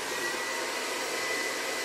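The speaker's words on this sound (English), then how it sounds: "We grabbed a powerful hair dryer with a nozzle on it." A powerful hair dryer fitted with a nozzle blows on high heat, a loud, steady whooshing roar close by without pause.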